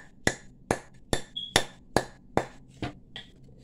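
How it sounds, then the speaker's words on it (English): A brass bangle held in the palm is struck with a hammer about eight times at a steady, slightly uneven pace, each hit a sharp, close metallic tap with a brief ring, and nobody speaks. "I put it in my palm, and I just hammer this"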